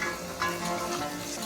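Chopped onions fry in hot oil in a pan for Punjabi chole, a close, steady sizzle with a light stir partway through and no talking.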